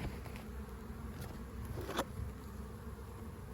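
Bees hum in a steady, close buzz at hives being combined, continuing throughout, with a brief louder swell as one passes near.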